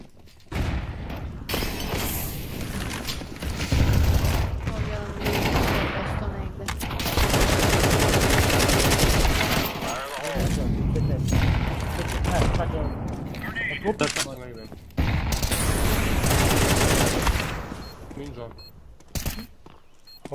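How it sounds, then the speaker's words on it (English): Video game gunfire with teammates shooting each other by friendly fire, dense rapid automatic bursts and loud booms nearly throughout, with excited voices talking over the shooting. "Opet friendly fire."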